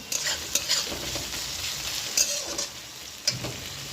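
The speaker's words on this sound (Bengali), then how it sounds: "পেঁয়াজটা ভেজে নিচ্ছি" Onions fry in a pan as a base for a prawn curry, a constant close sizzle with a few quick scrapes and clinks from a stirring spoon.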